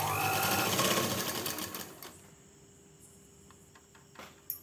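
Sewing machine stitching salwar pants with canvas, a fast close mechanical whir for about two seconds, then stopping, followed by quiet handling clicks and a small tap near the end.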